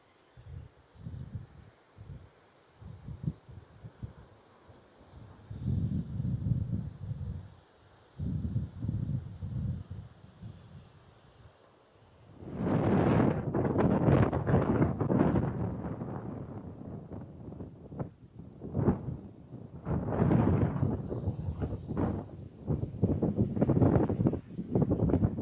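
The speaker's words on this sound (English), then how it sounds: "the wind is really, really picking up" Strong gusty wind buffets across a cornfield after a severe drought, rushing and roaring against the microphone in surging waves, building from lighter low-frequency buffets to louder, broader gusts.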